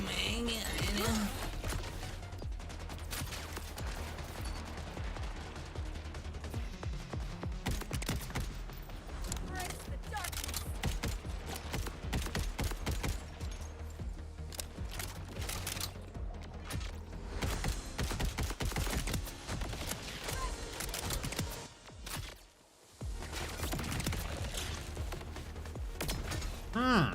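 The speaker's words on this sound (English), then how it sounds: "I'm almost out of ammo for the friggin' SMG." SMG gunfire in Borderlands 4 during hectic combat: near-constant bursts of rapid shots and impacts layered with game effects and music, with a short lull near the end and a player talking over much of it.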